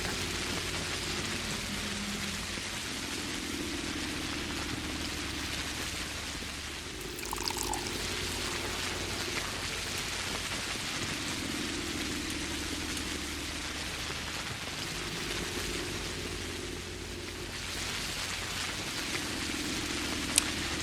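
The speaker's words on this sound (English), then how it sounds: "Ooh, it's raining hard." Heavy rain in the game Pathologic, a dense, steady hiss of downpour pouring on surfaces throughout, with low droning ambience beneath and a few brief splashy accents.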